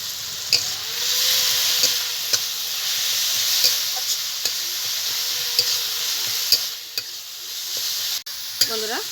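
Fourteen kinds of leafy greens fry in ghee for the Diwali Chaturdashi dish. A steady close sizzle hisses throughout, with a spatula scraping and tapping the pan every second or so, and a louder clatter near the end.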